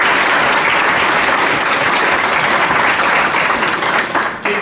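A lecture audience breaks into steady, dense applause after a talk, loud and sustained across the room, thinning out slightly near the end.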